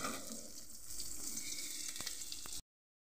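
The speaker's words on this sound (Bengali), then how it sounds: "একদিকে পাট শাকের বড়া ভাজছি" Jute leaf fritters frying in hot oil, a steady broad sizzle that continues for a couple of seconds, with a few faint clicks near the end before it cuts off abruptly.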